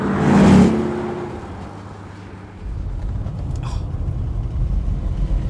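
A Maserati Bora's engine pulls on an open road, a loud burst of revving early on easing into a steady, close drone and rumble that holds to the end.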